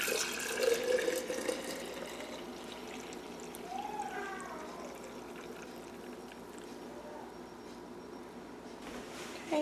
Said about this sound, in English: I'm just going to pour it into back into the mason jar.